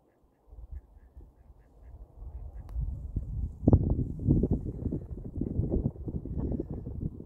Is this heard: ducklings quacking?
yes